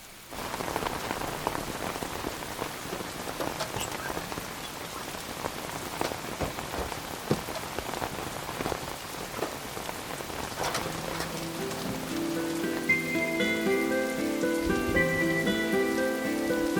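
Steady rain falls on a surface throughout, a dense patter of drops that grows slightly fuller toward the end, where faint sustained tones join in the background.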